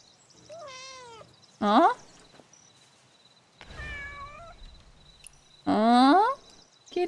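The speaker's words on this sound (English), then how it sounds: "Don't meow at me." A cat meows repeatedly in the video game Where Winds Meet, four separate rising and falling meows, two soft and two loud and close, spaced a few seconds apart over faint cricket-like ambience, with one brief spoken word.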